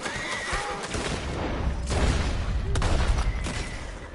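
A horse whinnies in the Red Dead Redemption 2 video game, a shrill, wavering neigh amid rumbling game sound and a couple of sharp gunshot-like bursts.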